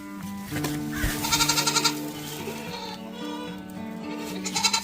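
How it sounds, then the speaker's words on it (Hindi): Several young goat kids bleat repeatedly and overlap in a chorus of wavering, nasal cries, close by inside a livestock farm shed, with some quivering calls rising above the others. "इधर ये बकरियों के बच्चे फिर रहे हैं।"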